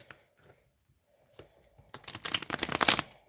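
A deck of tarot cards being shuffled at close range, a brief riffle early on followed by a denser, louder burst of rapid flicking and slapping of cards near the end.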